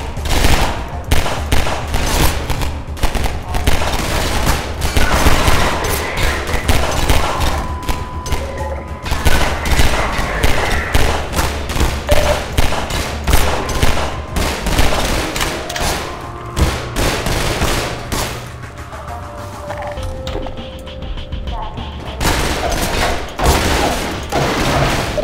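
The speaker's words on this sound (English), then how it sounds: "He's shooting at me." Enemy gunfire in Half-Life 2 comes as dense, continuous bursts of automatic shots with thuds and booms, loud and close throughout, with no talk over it.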